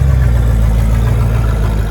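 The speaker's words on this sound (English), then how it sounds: "reverse the world's longest car" Idling engine of the Cadillac Eldorado billed as the world's longest car, weighing over 9 tons, as it is put in reverse; a steady, loud low rumble holds throughout with no change in pitch.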